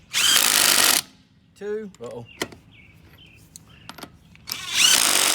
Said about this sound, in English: I've already started the lug nuts. Then you just always want to tighten in a star pattern.